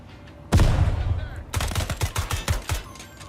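A frag grenade goes off in the tactical shooter Ground Branch with one loud, sudden blast, followed by a rapid run of sharp cracks and thuds that keep going to the end.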